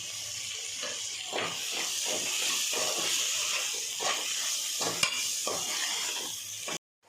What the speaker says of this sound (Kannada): ಇದು ಸ್ವಲ್ಪ ಮೆತ್ತಗಾಗೋವರೆಗೂ ಫ್ರೈ ಮಾಡ್ಕೋಬೇಕು.